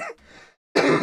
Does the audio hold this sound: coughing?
yes